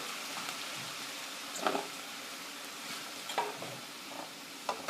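Onions, tomato and celery frying and being stirred in a pan, a steady close sizzle with occasional scraping stir strokes rising above it.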